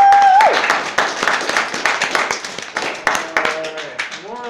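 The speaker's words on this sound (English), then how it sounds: "Let's give another round of applause for Daria." Loud, lively applause with dense clapping from a crowd, cheering voices rising over it, continuing steadily for several seconds.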